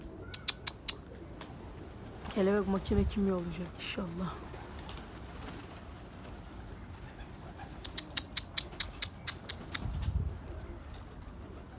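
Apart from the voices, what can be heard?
pigeons cooing in coop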